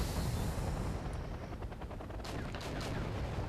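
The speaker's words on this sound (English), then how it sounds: "we have a few Cobra right there, which are shooting tow missile on T-62 over there, and my tank are actually supporting them" Battle noise in the game Wargame European Escalation, with Cobra helicopters firing TOW missiles and tanks shooting at a T-62: a dense, constant rumble of distant fire with a few sharper blasts near the end and no voices.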